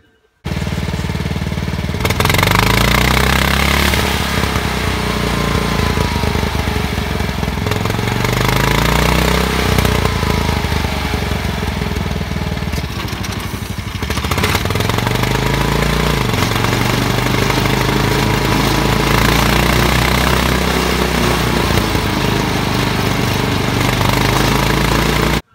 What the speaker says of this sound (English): the engine started racing